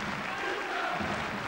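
A football stadium crowd at an Austria Wien versus Rapid match applauds an injured player being substituted, a dense, steady wash of clapping heard at a distance.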